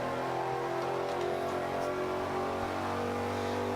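Speed GT500 race car in Forza 5, engine droning steadily at high revs through a B-class lap, loud and continuous with no talk over it.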